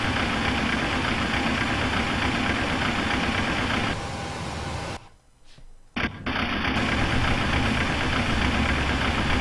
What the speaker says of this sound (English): Start engine number 2.